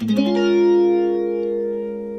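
A single strummed guitar chord rings out and slowly decays, its tone gently sweeping with a slow-rate, slightly resonant phaser effect.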